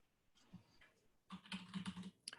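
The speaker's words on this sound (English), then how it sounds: "now that I'm typing clear" Quiet keystrokes on a computer keyboard, a few sparse taps followed by a denser burst of quick typing, close and soft with no one speaking.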